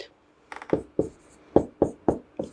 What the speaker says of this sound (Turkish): Şimdi hemen size şöyle şifresini yazalım